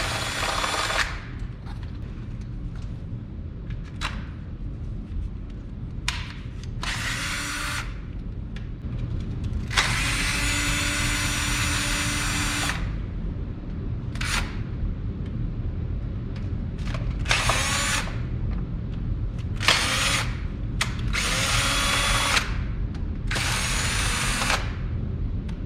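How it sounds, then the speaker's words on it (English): A power tool runs in repeated loud bursts as bolts come out of the intake on a Mustang Bullitt, with short ratcheting whirs separated by brief pauses, close to the microphone and with no talking. "Let me get these bolts out of here"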